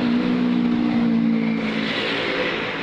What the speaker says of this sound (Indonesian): karena ini kolong jembatan ya, suara kendaraan itu lebih terasa sekali, terdengar berisik ya